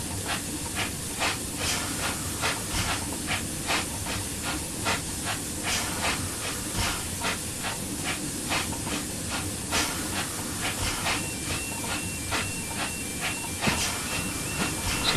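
A steam locomotive passes on the Pickering to Grosmont line, its steady loud hiss of steam running throughout over regular rhythmic clicks from the wheels on the rails.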